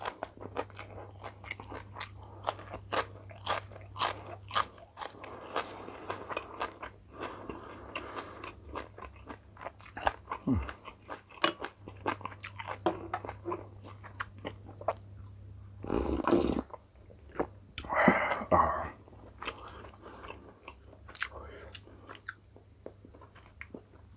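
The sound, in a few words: eating spicy papaya salad with fermented fish and chicken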